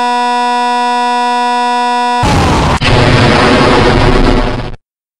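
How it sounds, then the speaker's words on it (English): A fired laser cuts in as a sudden harsh, loud burst of noisy crackle after a sustained electronic tone, with a brief dip and then a roaring wash that cuts off abruptly. "I hate it, when you fire your laser at my face like that."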